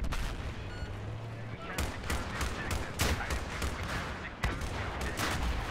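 Rapid gunfire from a Battlefield 3 multiplayer match on Tehran, with repeated shots and bursts crackling almost continuously for several seconds, close and loud, under occasional speech.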